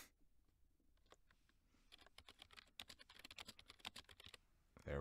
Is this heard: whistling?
no